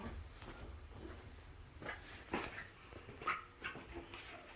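A sad dog whimpering somewhere upstairs in a house, with a few soft, intermittent whines and yips rising over a quiet indoor background, moderately distant.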